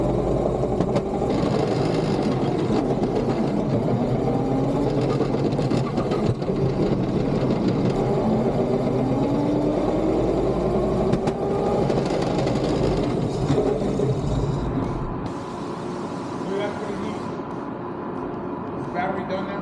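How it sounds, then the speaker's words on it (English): Stock electric motor of a 40V Razor Ground Force drift go-kart whining steadily at close range, a continuous hum with a rising and falling pitch that eases off near the end, with talk over it. "This is just a stock motor."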